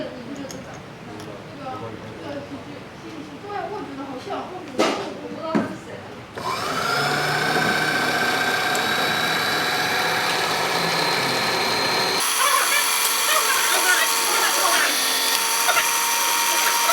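High-pitched whine of a small drill boring holes in a printed circuit board, starting abruptly after a few quiet handling clicks and running steadily, shifting to a brighter pitch partway through.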